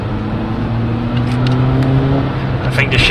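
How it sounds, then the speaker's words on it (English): A 1980s Audi 80 B2 with a swapped 1.8 20V turbo engine pulls at half throttle, giving a steady, moderately loud engine drone from inside the car while someone talks over it. "Nice easy acceleration. This is just all half throttle."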